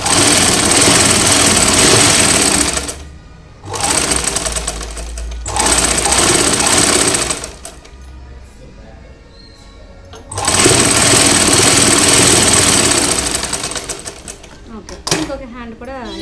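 A sewing machine double-stitches a plain blouse, its loud fast mechanical chatter running in bursts of a few seconds separated by pauses with quieter handling noise.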